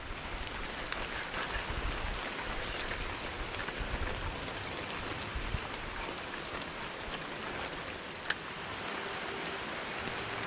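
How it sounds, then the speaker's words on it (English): Brief autumn downpour at a creek while fishing, a dense, even hiss of rain hitting water and surfaces, steady and moderately loud for the whole stretch, with occasional sharper drops and no talking. "Just a quick little downpour."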